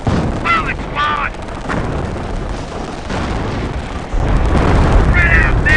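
Explosions and gunfire in a war video game on a beach landing, a continuous loud barrage of booms and shots with shouted voices over the battle din.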